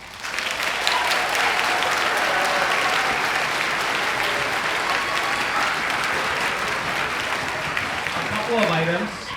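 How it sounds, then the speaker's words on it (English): A school audience gives a huge round of applause for a 6th grade middle school band at a winter concert, loud sustained clapping from many hands filling the hall, with a voice briefly rising near the end. "give our 6th grade band a huge round of applause"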